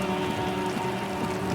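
Steady rain in the video game Disco Elysium, an even hiss of falling drops that holds for a brief moment with no voices.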